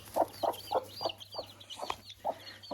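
A mother hen clucks in a steady series of short, close calls while leading her chicks to water, with faint high chick peeps chirping in the background.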